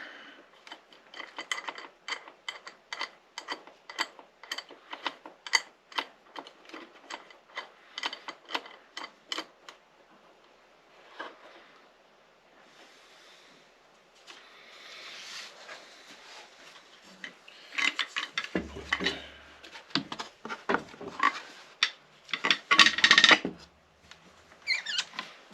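Spool clamps are fitted and tightened onto the edges of a mandola body at the tail block, producing close, dry ratcheting clicks and threaded turning in quick bursts separated by pauses, with handling knocks toward the end.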